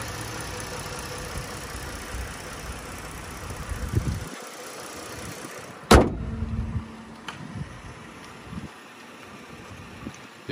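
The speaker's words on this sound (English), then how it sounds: "The car is running right now." A 2012 Ford Taurus Limited with a V6 idles with the engine compartment open, a steady low hum throughout, broken once by a sharp thump like a door or hood, then continuing smoothly.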